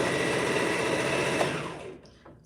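A sewing machine stitches an abaya in a steady, loud, close whirring run that slows and stops near the end.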